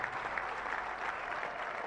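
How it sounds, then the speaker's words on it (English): Steady applause from a large crowd at a Zambian independence anniversary celebration, a dense continuous patter of clapping heard from a distance with no voices over it. "give a round of applause to these gallant citizens who worked to deliver freedom for us today"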